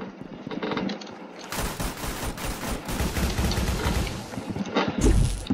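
Dense rapid gunfire from the Roblox shooter game Arsenal, a loud continuous fusillade of shots that fills most of the span.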